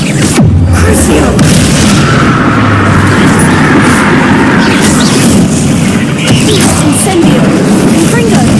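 Continuous loud, rumbling booms and blasts from Confringo and Incendio fire spells in Hogwarts Legacy, a dense barrage of explosive bursts with voices mixed in throughout.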